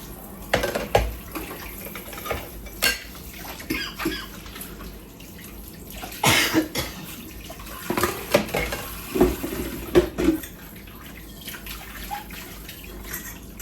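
Water from a tap splashes unevenly as dishes are rinsed at a sink after dinner, with irregular gushes and the soft knocks and squeaks of plates being handled.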